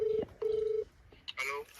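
A phone being dialed to call a doctor: two short steady keypad tones sound close and clear, followed by faint rustling and a brief bright burst of noise.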